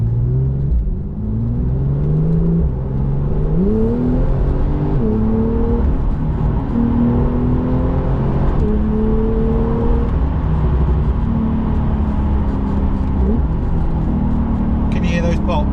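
Porsche 911 991.2 GTS with PDK gearbox driven on drying roads, engine pulling through rising and falling revs with gear changes, loud and close from the cabin throughout; distinct exhaust pops are hard to pick out.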